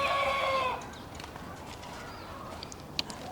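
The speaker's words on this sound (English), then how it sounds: "we have 4 roosters who have started crowing" A rooster on a backyard urban homestead crows once, nearby and fairly loud, the call ending early before quieter ambience and a soft click.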